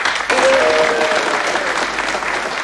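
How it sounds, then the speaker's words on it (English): Studio audience applauding the Sydney and Murdoch teams on a 1988 University Challenge quiz show, a steady dense clapping that swells quickly and holds loud throughout, with a brief tonal sound near the start. "let's applaud Sydney and Murdoch for a gallant effort"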